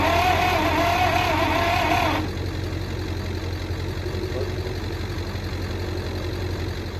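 An old Michigan wheel loader left sitting for years cranks over, its engine turning with a steady droning churn, loud at first and then dropping to a lower, rougher rumble that continues close by.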